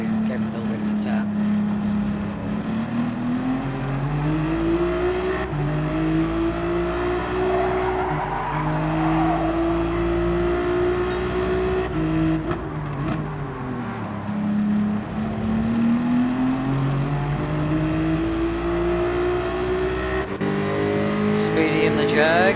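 A Jaguar race car in a racing game revs hard through its gears, engine pitch climbing and dropping repeatedly over a long stretch with occasional tire noise, steady and close throughout.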